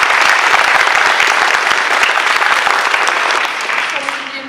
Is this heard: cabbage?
no